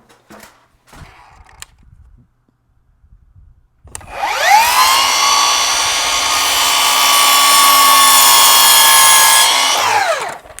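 A power miter saw spins up after a few faint handling clicks, then whines loudly and steadily as it trims a short length off a piece of crown molding before winding down, close and without talking.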